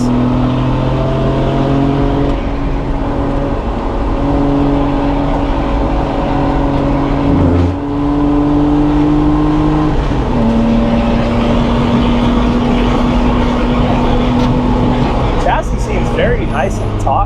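BMW E36 M3 sedan track car drives with a loud, close engine drone, steady revs rising and dropping through gear changes, with a voice talking over it near the end.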